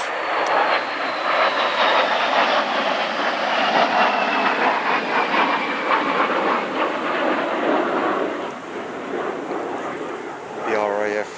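An RAF aircraft makes a flyby overhead, a loud continuous roar that fills the scene and slowly fades, with a whining tone that sinks in pitch as it passes.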